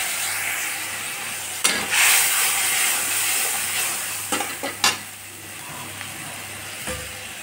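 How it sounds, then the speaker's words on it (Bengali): Onion and ginger paste frying in a pan after water is poured in, a loud steady sizzle broken by several sharp stirring scrapes and clinks of a spoon against the pan. "জল দিয়ে দিলাম মশলাটা যাতে ভালো করে ভাজা হয়।"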